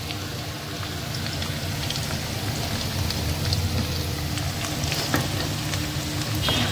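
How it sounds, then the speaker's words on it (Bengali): Potatoes frying with salt and turmeric in hot oil for a poppy-seed okra curry, a steady continuous sizzle with light crackles throughout, no voices. "আলুটা নুন হলুদ দিয়ে ভাজি।"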